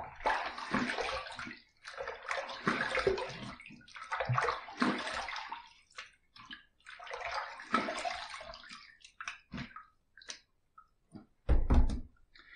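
A tap runs in several bursts as water splashes into a sink for rinsing after a shave, with pauses between, a few thunks and a final clatter.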